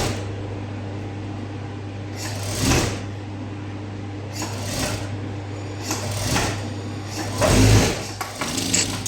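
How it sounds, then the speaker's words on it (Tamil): A sewing machine stitches sleeves onto a blouse in short bursts of rapid mechanical chatter, separated by quiet pauses with a low steady hum underneath. "இப்போது 2 சைடும் ஸ்லீவ்ஸ் வந்து கம்ப்ளீட்டாக ஸ்டிச் பண்ணி முடிச்சாச்சு, அட்டாச் பண்ணிட்டோம்"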